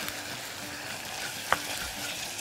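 Chicken hearts and gizzards frying with grated onion in a pan, a quiet steady sizzle with one sharp utensil tap midway, no talking.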